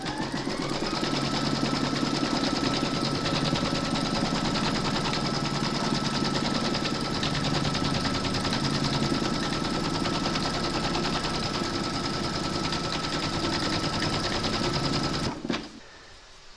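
An embroidery machine stitches batting onto a hoop for a large mermaid and dolphin applique in metallic thread, a steady, loud rapid mechanical chatter running unbroken for about fifteen seconds before stopping abruptly.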